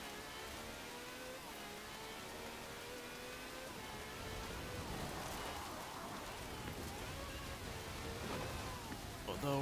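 Rain patters steadily on a car in the Forza Horizon 4 racing game, a continuous hiss blended with a humming engine, fairly faint and even throughout.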